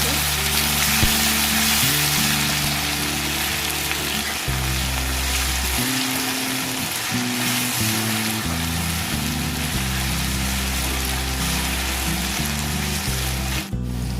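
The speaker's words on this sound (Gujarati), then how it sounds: "તેલના બટેકાને આપણે 2 થી 3 મિનિટ સુધી ચડવા દેવાના છે." Potatoes fry in oil in a pan for sabudana khichdi, giving a continuous, even sizzle over the full length. Background music with steady sustained tones plays underneath.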